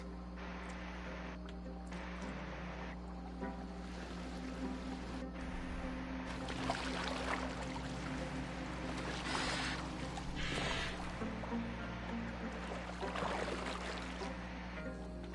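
A boat glides over water in Assassin's Creed Valhalla, with a steady low rumble and soft wash of water running throughout, rising in swells and splashes near the middle and end.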